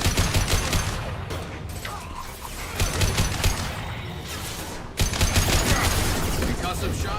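Gunfire and combat effects from the video game Mass Effect, with dense rapid shots and clattering bursts filling the clip at moderate loudness, briefly easing mid-way before a sharp burst resumes the volley.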